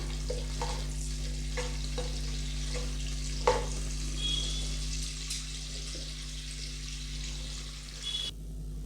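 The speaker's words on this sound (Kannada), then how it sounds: "ಸ್ವಲ್ಪ ಹಾಗೆ ಫ್ರೈ ಮಾಡ್ಕೊಂಬಿಡೋಣ ಗೋಡಂಬಿನ" Cashews fry in a pan with a continuous soft sizzle under a low steady hum, punctuated by several light taps and stirring scrapes of a spoon.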